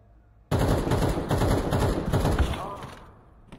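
Gunfire from the video game Counter-Strike 2 bursts out in a dense rapid rattle of shots, loud and close, then fades away over a few seconds.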